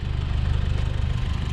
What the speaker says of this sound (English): the exhaust sounds really deep. It's a good tone